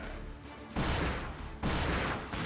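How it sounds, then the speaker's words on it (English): Cannon blasts from a ship battle in the action game Like a Dragon: Pirate Yakuza in Hawaii, two heavy booming bursts about a second apart over a low rumbling background, moderately loud with no talk. "Those are laser cannons!"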